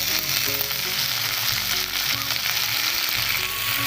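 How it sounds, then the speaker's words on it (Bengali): Onions fry in mustard oil in a kadai, a loud, constant crackling sizzle heard up close with no speech. "পেঁয়াজগুলো লাল লাল করে ভেজে নেব।"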